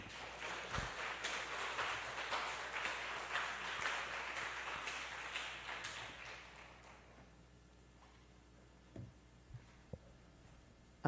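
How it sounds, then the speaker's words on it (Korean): Church congregation applauds to welcome missionary Kim Jin-young to the pulpit, a soft spread of clapping that fades out after about seven seconds, leaving quiet room with a few faint knocks and footsteps. "우리 선교사님 나오실 때 축복의 박수로 환영하겠습니다."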